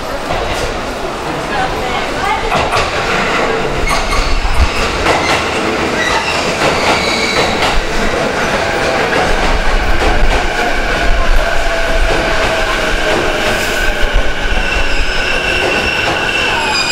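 Rumbling train noise with squealing wheels and clattering at platform 1 of JR Omiya Station on the Keihin-Tohoku Line, a Japanese platform announcement voice speaking over the steady din.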